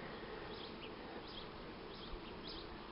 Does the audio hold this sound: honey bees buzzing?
yes